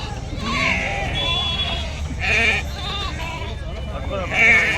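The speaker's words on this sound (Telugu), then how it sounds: "ఈ సమయంలో గొర్రె పిల్లలు చిన్నవి" Young lambs and sheep at a livestock market bleat several times in wavering cries over a busy, noisy background, with people talking nearby.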